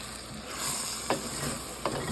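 A vegetable pan for lemon chicken orzo soup sizzles steadily as broth hits the hot bottom, with two sharp scrapes of a utensil loosening the browned bits, close up and without speech.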